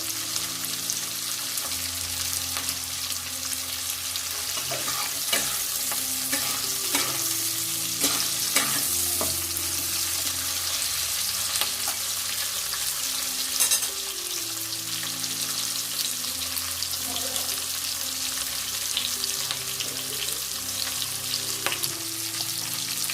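Onions frying lightly in a pan for raw jackfruit kofta chili, a steady broadband sizzle running throughout with occasional stirring clinks and scrapes, close and fairly loud, no talking.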